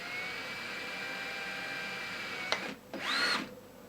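A power drill fitted with a 1/16 inch bit whines steadily while making a mounting plate, then stops briefly before one short, higher-pitched burst of drilling.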